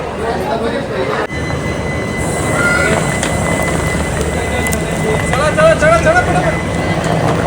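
Rumbling, hissing railway noise of a train standing at a platform, with people talking nearby throughout.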